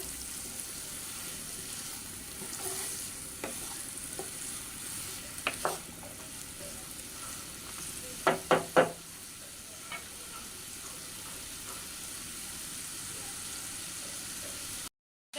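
Sea fish (bash koral) frying in a pan over a high flame gives a steady, low sizzle throughout, with a few quick utensil clacks near the middle.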